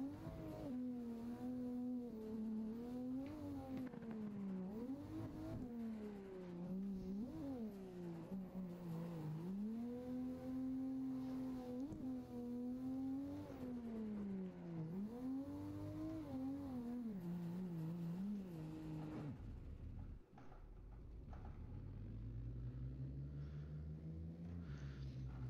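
A car engine revs hard with the clutch being let out, its pitch rising and falling in repeated surges for about twenty seconds before cutting off abruptly, followed by a lower rumble as the car moves off.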